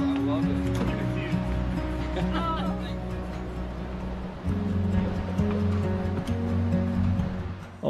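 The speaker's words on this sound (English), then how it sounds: "a stop on the bridge gives you a terrific vantage point to take in the lower section of the Kootenai Falls" Kootenai Falls river rushing below a swinging bridge, a steady loud roar of churning water that fills the whole span, with a brief murmur of voices partway through.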